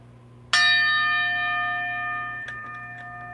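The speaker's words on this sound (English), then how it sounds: "I invite you to follow the bell into the distance, or as it fades" A single bell strikes once, loud and resonant, then its ringing tone slowly decays and fades, with a faint second tap near the end over quiet room hum.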